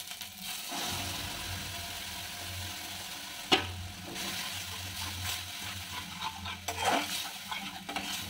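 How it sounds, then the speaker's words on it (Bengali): Split mung lentils fried in a pan with green chilies are stirred, producing a low, steady sizzle with utensil scrapes and a sharp clink against the pan, close and without talk. "ডালটা নাড়াচাড়া করে 1 মিনিট ভেজে নেবো"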